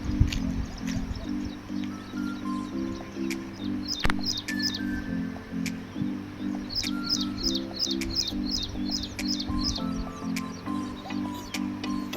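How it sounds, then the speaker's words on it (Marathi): Birds chirp outdoors in the morning in a rural village: repeated quick bursts of high tweets come in clusters, mid-distance, over a steady low rhythmic hum and background noise. "तुम्ही आवाज देखील पाहू शकता अगदी पक्ष्यांचे चिवचिवाट छान असे आवाजसुद्धा यामध्ये आपल्याला"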